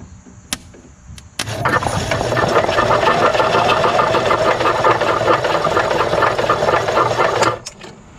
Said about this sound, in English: This should spin, the engine should spin